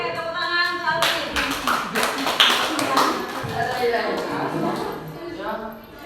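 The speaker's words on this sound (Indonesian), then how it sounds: "tepuk tangan untuk Alvin" A group bursts into applause for a participant at a teacher training session, the clapping rising after a spoken lead-in and then thinning out under continued chatter.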